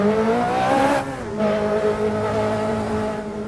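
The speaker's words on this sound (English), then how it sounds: "We're in first gear and off we go." Race car in a racing video game pulling away from a pit stop in first gear, its engine holding a steady droning whine with a brief dip before climbing again, loud and close.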